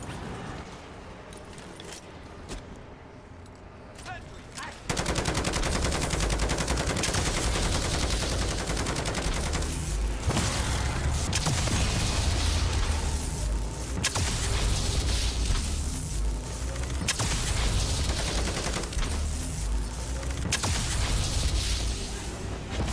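Automated sentry gun in MW3 Zombies firing on zombies, a dense continuous stream of rapid gunshots that begins abruptly a few seconds in and runs loud and unbroken to the end, after a quieter stretch of game ambience.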